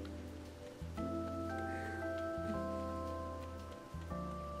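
Rain ambience in the cozy video game Calico, a soft steady hiss of rainfall beneath a gentle layered musical score with sustained tones and bass notes, no voices.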